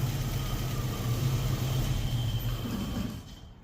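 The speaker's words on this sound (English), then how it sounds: "So we're going to try to see where we can get it where it's idling." A Datsun roadster with an EFI engine idling, giving a steady low rumble that holds evenly and then fades out near the end, with no voices.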